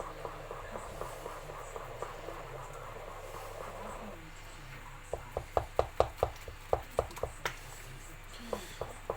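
Sticks stirring a sourdough starter in a container, a steady soft scraping and churning that gives way to a run of sharp rhythmic knocks against the sides, close and fairly quiet.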